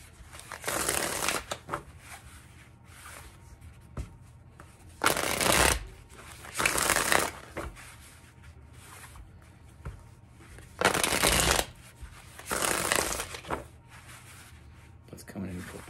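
Tarot cards shuffled by hand in a series of about six brisk riffling bursts, each a second or so long, separated by quiet pauses, close and fairly loud.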